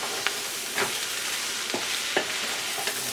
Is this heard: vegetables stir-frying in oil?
yes